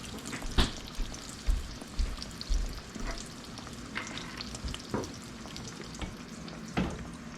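Homemade donuts frying in hot oil in a home kitchen, a soft continuous sizzle with occasional louder pops and crackles, heard close up with no talking.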